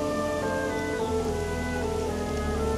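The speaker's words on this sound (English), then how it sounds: "the light rain started to fall. Then all of a sudden, it came crashing down." Heavy rain pours onto a swamp forest terrarium holding water and a betta fish, a dense steady patter with sustained tonal ringing layered over it and no talking.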